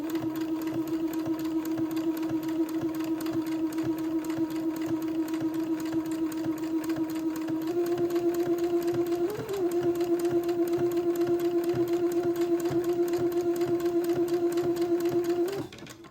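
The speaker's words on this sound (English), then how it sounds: "I've got my machine set to a zigzag in the appropriate stitch length and stitch width for sewing entredeux again. And I'm going to zigzag this entredeux seam in place." A sewing machine zigzag-stitches an entredeux seam on a day gown, a steady close mechanical whir with a rapid rhythmic hum that shifts pitch slightly midway and stops near the end.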